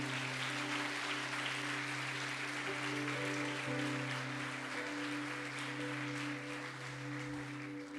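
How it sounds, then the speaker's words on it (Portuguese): Applause from a church congregation at a Brazilian Portuguese-language missions service, a steady broadband wash of clapping lasting the whole stretch, with a sustained low musical tone underneath. "Você pode aplaudir o nome de Jesus."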